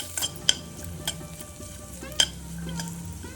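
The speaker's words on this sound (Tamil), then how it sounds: "முந்திரி பருப்பு, பாதாம் இதெல்லாம் வந்து கோல்டன் ப்ரௌன் கலருக்கு வர வரைக்கும் நம்ம வறுத்து பாயசத்தில் சேர்க்கணும்." Cashews, almonds and grated coconut fry in a pan for coconut rice payasam, giving a steady soft sizzle with a few sharp clinks of a stirring spoon against the pan, close and fairly quiet, with no talking.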